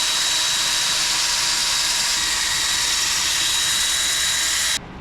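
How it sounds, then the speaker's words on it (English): Sanding a turned wood piece at 80 grit on a lathe: a loud, steady broadband whir and hiss holding constant for about five seconds before cutting off abruptly near the end. "So we're gonna sand this starting at 80 grit."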